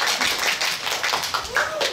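An audience applauds at a fan sign event, with a burst of dense clapping that stays close and loud for about two seconds.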